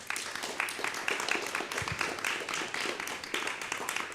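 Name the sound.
audience applause for guests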